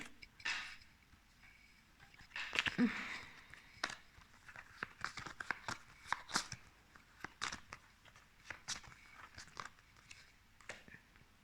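Cards being shuffled and handled for a seasons card reading, irregular soft riffles, slaps and taps spread across the clip, close and fairly quiet.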